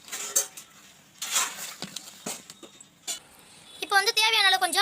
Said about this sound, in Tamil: இப்போ வந்து எல்லாத்தையும் கலந்து நல்லா கலந்து விட்டுக்கலாம்.